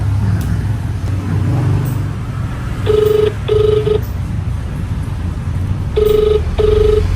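Telephone ringback tone while a call waits to connect, heard as two pairs of short electronic double rings over steady road and traffic rumble, fairly loud and without talk.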